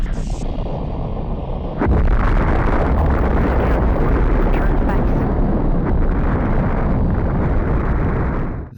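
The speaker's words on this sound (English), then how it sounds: "one thing in particular I really like is the way that fleet craft explode" A fleet craft explodes in the Colony Wars space shooter, a loud, sustained roaring blast that kicks in after a brief lead-in and rumbles on with heavy low-end crackle for several seconds.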